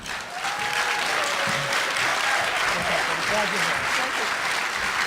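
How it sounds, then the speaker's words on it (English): Warm audience applause at a Spokane County Lincoln Day political dinner, a steady loud roar of many hands clapping throughout, with some background voices underneath. "So please welcome, with a very warm applause,"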